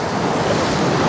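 Strong sea surf pounding the beach at Anapa during a windy storm, a continuous loud broadband roar of breaking waves with wind buffeting the microphone throughout.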